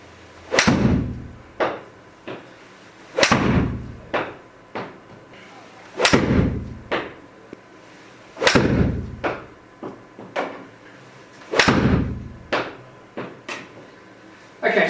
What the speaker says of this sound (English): I've just hit a handful of shots with each club